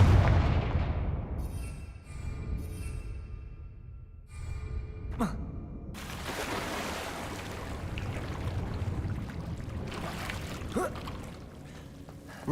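Confringo fire-blast spells go off in Hogwarts Legacy, a few sharp booming bursts scattered over several seconds against ambient game sounds and background music.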